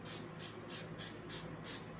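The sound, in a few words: cooking oil being sprayed on vegetables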